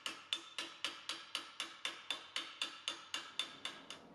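A planishing hammer strikes sheet metal in soft, evenly spaced blows, about four per second, each a sharp close metallic tap with a short ring, continuing alone without talk.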